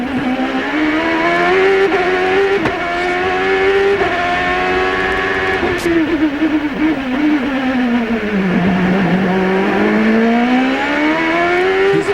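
A Champ Car race car at the 2006 San Jose street race screams at high revs, then dips in pitch as it brakes late into a turn and climbs again on exit. The engine is loud and close and no one is talking.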